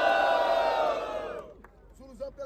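Audience at a rap battle, Batalha do Coliseu, cheering and shouting loudly in a dense roar that fades after about a second and a half, leaving scattered shouts and voices.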